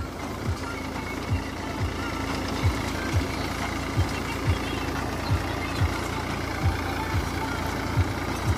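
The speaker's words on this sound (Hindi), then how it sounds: "चाल देखिए आप ट्रैक्टर की कितनी शानदार है।" A Mahindra 265 DI tractor engine runs steadily nearby with a low droning hum and regular thumping pulses about every half second, with no voices.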